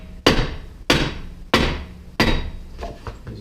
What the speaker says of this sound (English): I'm going to give it a couple blows with the dead blow, just to make sure it's free inside the spindle.